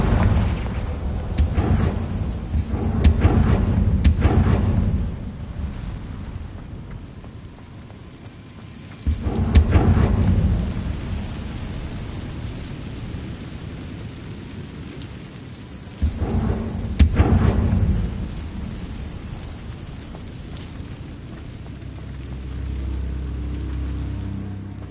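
Explosion spells in Hogwarts Legacy burst in three separate rounds of deep, rumbling booms that crackle and then fade, each blast loud and heavy against a quieter ambient background.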